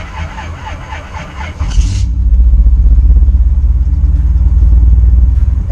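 A car engine turns over and catches after a brief cranking burst, then settles into a loud, close, throbbing idle rumble that holds steady to the end.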